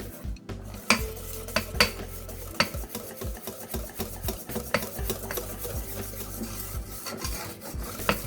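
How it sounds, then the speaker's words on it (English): A whisk beats thick, lumpy egg flatbread batter in a bowl, giving steady rapid scraping and clinking strokes close up with no talk. "But if you keep whisking, it loosens up and the lumps start to disappear."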